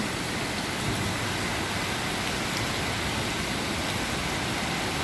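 Heavy downpour seen from a window above a flooded parking lot, a loud, constant broadband roar of rain that holds unbroken from start to finish.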